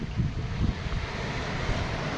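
A strong windstorm roars through a village as a continuous, broad rushing noise with heavy low buffeting against the microphone, steady and loud with no voices.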